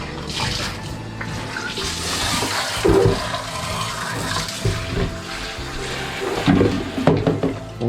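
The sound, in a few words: rinsing equipment with water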